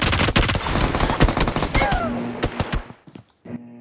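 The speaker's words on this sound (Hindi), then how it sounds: "मेरे को फायरिंग का आवाज आ जाता है" Rapid gunfire in a mobile shooting video game, dense bursts of loud close shots and automatic fire that thin into scattered single shots toward the end.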